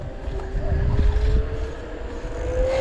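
The hub motor of an Eleglide M1 Plus electric bicycle whines with a steady rising tone while pedaling in the hardest gear, over rumbling road and wind noise.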